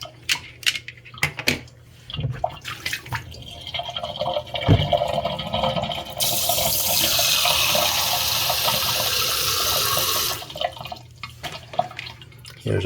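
Tap water runs from a faucet for several seconds, a steady hissing rush that starts and stops abruptly, with clunks and drips around it.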